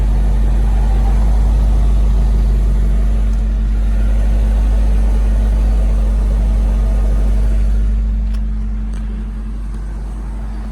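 A 2002 Ford Thunderbird engine idles steadily with a deep, constant exhaust rumble and low hum, close and loud, easing slightly toward the end.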